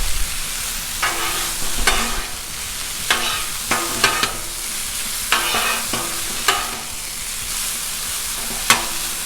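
Hash browns fry loudly in butter and oil on a hot Blackstone griddle, a steady close sizzle broken by repeated scraping and clacking of a spatula breaking them up.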